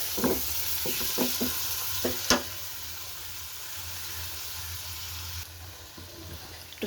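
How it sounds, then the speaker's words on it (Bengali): Spices, ginger and tomato frying in oil in a pan make a soft, steady sizzle, with several short knocks and scrapes of stirring early on and a brief louder clatter. "এবার এটাকে মশলাটাকে একটু কষিয়ে নেবো। একটু টমেটো দিলাম।"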